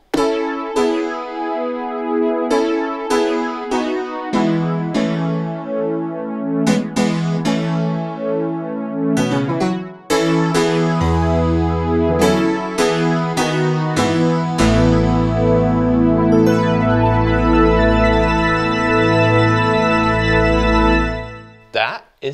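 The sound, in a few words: Nord Piano 5 digital piano playing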